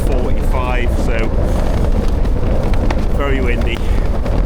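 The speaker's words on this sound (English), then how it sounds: "very windy, but despite it being noisy and shaking," Strong gusts of around 36 to 45 mph roar steadily against a Nortent Varde 1 tent, a loud, close, constant rush of noise with someone talking over it.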